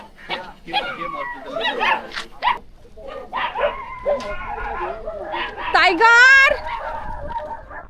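Dogs yipping and whining excitedly, with short barks mixed into loud, overlapping voices nearby.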